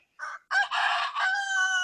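A rooster crows loudly and close by, a short opening note followed by a long, strained, harmonic call that holds to the end.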